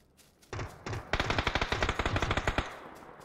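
Rapid automatic gunfire from an MK rifle in a solo first-person battle royale game, a couple of single shots followed by a sustained burst of evenly spaced, punchy rounds, loud and close with no talking.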